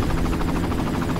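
A helicopter in the Far Cry video game thuds nearby with fast, steady rotor chopping over a loud engine drone, continuous and unaccompanied by talk.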